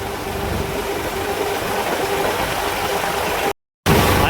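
Tractor engine running steadily as it drives through a wet farm field with standing water, a continuous broadband rumble with a low hum, loud and close, briefly cutting out near the end before resuming.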